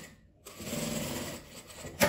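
A sewing machine runs steadily, stitching along an existing seam on a clear crystal plastic cosmetic pouch, a continuous close whirring that eases briefly near the end before a sharp click.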